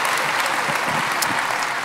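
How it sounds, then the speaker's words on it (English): Audience applause at a retail keynote talk in South Africa, a brief, loud, dense burst of many hands clapping together. "can I have an applause for the number threes?"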